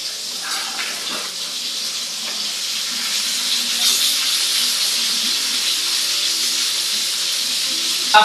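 Tulingan and danggit fish sizzle as they fry in hot oil, a steady bright crackling hiss holding at a fairly loud level throughout, with a faint voice at times.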